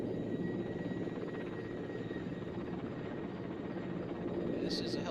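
A helicopter near a launch pad in the military video game Arma 2: Operation Arrowhead gives a steady, continuous rotor thrum, moderately loud and unbroken for several seconds.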